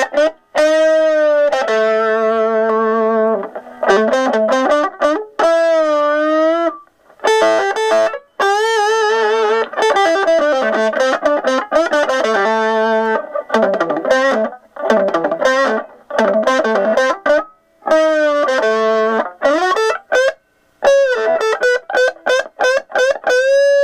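A distorted electric guitar plays a run of gritty, fuzzy notes and chords through a Danelectro HoneyTone N10 mini amp, with brief pauses between phrases.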